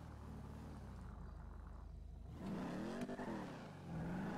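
A 2020 Toyota Supra engine in GTA gives a low steady drone that swells into a rising and falling rev with a whirring tone, close and loud, with no talking over it.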